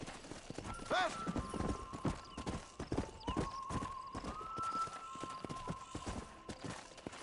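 Galloping hooves of a horse in Red Dead Redemption pound in a steady rhythm with a whinny near the start, close and fairly loud, over a low game ambience.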